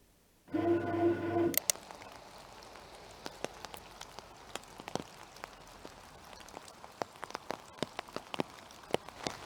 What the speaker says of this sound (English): It's actually raining a lot more now than when I went outside just 5 minutes ago.